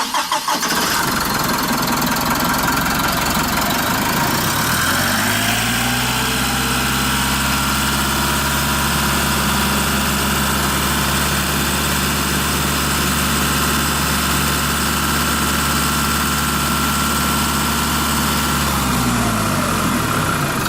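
A Mitsubishi Fuso Canter refrigerated truck with a 2990cc 150-horsepower intercooled turbo engine cranks and fires, then settles into a loud, steady diesel idle close by before the sound changes near the end.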